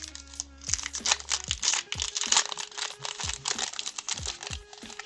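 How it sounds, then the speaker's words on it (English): Crinkly foil wrapper of a baseball card pack being torn open by hand close up, a dense run of crackling crumples and rips lasting a few seconds. "let's open this first pack, see what we get here"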